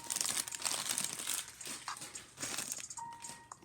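A foil pack of basketball cards is torn open and crinkled close by, giving a continuous quiet rustling and crackling with a few sharper crinkles along the way.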